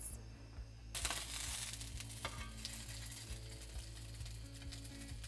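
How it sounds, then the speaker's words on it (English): Tuna pieces searing in a hot pan: a steady, loud sizzle and crackle runs throughout, with occasional sharper pops and spatter, and no voices. "So we've seared both sides."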